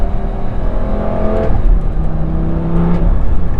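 A 2008 Lamborghini Gallardo's engine heard from inside the car, loud and droning, revving up through the gears with pitch climbing then dropping at each shift, with several shifts in quick succession.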